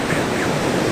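Ocean surf rolls in at Playa Camarón beach in Mazatlán, a broad, steady wash of breaking waves with some wind noise, continuous throughout.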